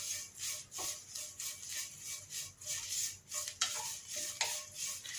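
Curry leaf powder stir-roasted in a pan until dark and charred, giving soft continuous scraping and swishing with a few sharper spoon clicks against the metal, near and fairly quiet, no voices.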